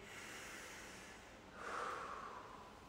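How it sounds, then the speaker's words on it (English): A deep breath drawn in through the nose, a soft, close, airy inhale swelling midway, alone against quiet background hiss. "So breathe in deep."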